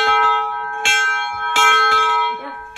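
A heavy bell is struck several times at uneven intervals, each loud clang ringing out and decaying into a sustained metallic hum, heard close and clear with no talking.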